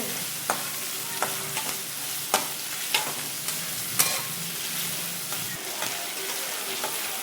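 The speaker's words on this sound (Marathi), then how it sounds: "आता चांगला हलवून घेते कांदा आणि चांगला परतून घेते." Onion being stirred and fried in a pan for a bitter gourd vegetable dish: a continuous close sizzle broken by regular scraping clicks of the spoon against the pan.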